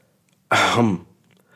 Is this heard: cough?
yes